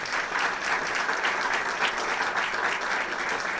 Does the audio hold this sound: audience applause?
yes